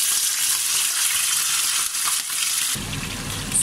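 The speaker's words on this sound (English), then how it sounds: "I'm going to fry the chicken for it to be a little bit of golden brown" Chicken pieces frying in hot oil in a frying pan, a steady loud sizzle and crackle throughout that shifts to a softer, lower bubbling near the end.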